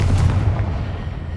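A fire-based blasting spell going off in Hogwarts Legacy, a deep booming burst with a heavy low rumble right at the start that rolls and fades over a second or so, no voices.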